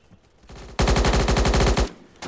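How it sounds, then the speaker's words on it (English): Sustained burst of automatic gunfire in the video game Blackhawk Rescue Mission 5, loud and rapid with evenly spaced shots lasting about a second, followed by a single later shot. "There's a guy actually shooting over there. Fired back at him."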